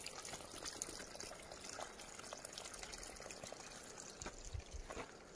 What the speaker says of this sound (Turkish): Burada öyle küçük şelale benzeri bir şey oluşmuş.